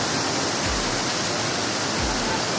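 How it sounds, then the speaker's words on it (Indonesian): Steady roar of a waterfall at Curug Gobang, heard up close from the edge of the falls, a loud unbroken broadband rush of pouring water with no voices over it. "Jadi ini di pinggir air terjun."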